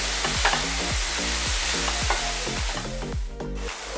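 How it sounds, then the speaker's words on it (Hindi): Shredded cabbage being stir-fried in a pan, a steady loud sizzle with repeated scraping stirs of a spatula at a regular rhythm, close up and without speech. "अब इसमें कैबेज डाल देंगे। इसको भी 1 मिनट के लिए पकाएंगे"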